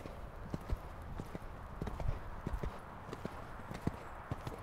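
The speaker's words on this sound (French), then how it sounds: "Galope un petit peu plus." Hooves of a horse cantering in a riding lesson, with a steady rhythmic clip-clop of footfalls on firm ground, moderately close, running through the whole stretch with a faint voice in the background.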